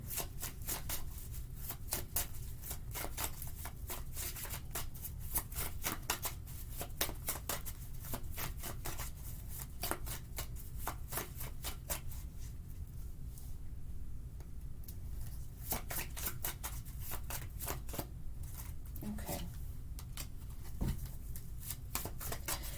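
Tarot cards shuffled steadily up close, a quiet, continuous run of rapid crisp riffling and flicking taps with no talking.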